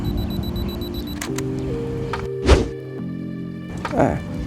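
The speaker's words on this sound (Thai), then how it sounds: "แล้วกดถ่ายครับ" A kit-lens camera fires its shutter a couple of times, with a sharp close mechanical click standing out and a second softer click later, over a low steady background hum.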